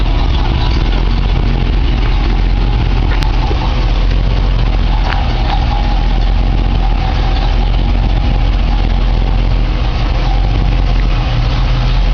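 A 1964 Chevy Impala SS engine idles close by, a steady, loud, continuous rumble that holds evenly throughout with no voices.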